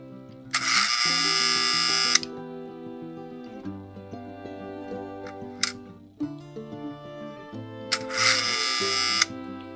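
An American Flyer 915 unloading car mechanism runs after repair, giving two loud buzzing, whirring bursts, one early and one near the end, over a quieter steady tonal background.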